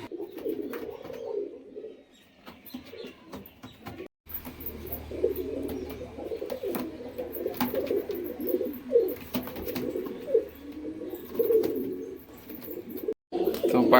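A pair of High Flying Madras pigeons cooing nearby, with repeated soft, throaty rolling coos in bursts over about fourteen seconds, along with a few faint clicks and rustles.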